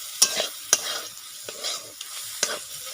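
Turmeric, chilli, coriander and cumin powders fry in oil for a dal tadka under a soft background sizzle. A spoon knocks and scrapes against the pan several times in uneven, clattering strokes.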